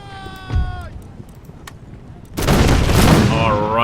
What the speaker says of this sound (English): Let's get a celebratory volley here before we end it.